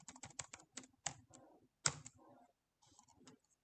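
Someone types a password on a computer keyboard. Quiet, close keystrokes come in quick bursts of clicks with short pauses between them, and no one speaks over the tapping.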